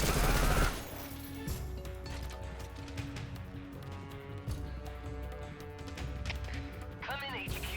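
Gunfire in the Metal Gear Solid Delta video game: a burst of rapid shots at the start, then scattered gunshots and clanks over game music and effects, with a player talking throughout.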